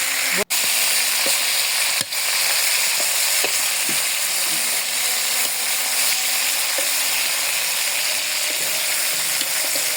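Poultry chicken pieces fry in a pan with a steady, loud sizzle and occasional stirring clicks and scrapes, continuous throughout with no voices.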